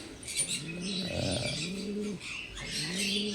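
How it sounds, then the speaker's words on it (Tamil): Native pigeons on a farm coo in repeated low, rolling phrases, each swelling and fading, close by with no talking; a brief wing flutter comes at the start. "பீஜியன்ஸு நம்ம இது நாடன் புறா"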